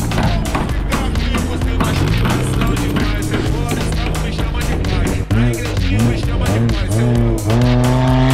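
A cheap drift car flapping its tire during a drift: loud, continuous engine roar and tire squeal close by, with a rapid rhythmic slapping running through it and a voice briefly heard underneath.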